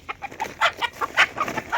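A village chicken clucks in a quick series of short, sharp calls, close by and fairly loud, with no talking.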